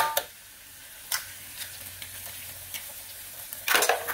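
Beaten eggs frying in a hot pan with stir-fried kailan, a soft steady sizzle broken by several scraping stirs of a utensil against the pan, close and clear, with no talk.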